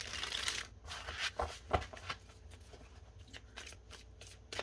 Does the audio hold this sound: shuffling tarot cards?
yes